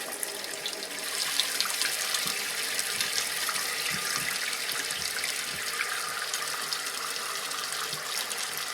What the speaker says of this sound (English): Now as the water comes up in the tank, we're going to adjust the level here.